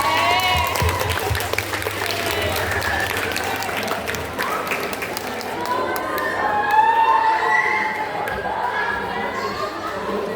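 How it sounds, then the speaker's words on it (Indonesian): Audience applause and cheering after a school drama performance of Lutung Kasarung, a dense crowd wash with clapping and chatter throughout, no gaps, building slightly toward the end. "Oke, tepuk tangan sekali lagi dong."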